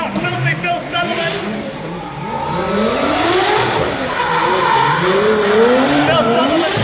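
Nissan S15 drift car on a street course at the Waimate 50, engine howling with rising and falling revs and tyres squealing continuously, loud and close, with an excited commentator talking over it.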